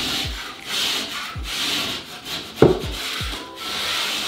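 A rasp (surform) scrapes along the cut edge of a ceiling board in repeated rough, close strokes, with a sharp knock partway through and brief pauses between passes.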